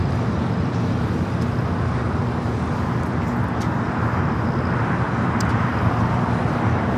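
A Boeing 777 is pushed back at Los Angeles International Airport, heard as a steady, loud broadband rumble of airport and engine noise with a low drone throughout.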